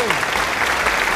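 Studio audience applause welcoming a guest at a radio show, a brief dense patter of clapping heard close with a voice over it.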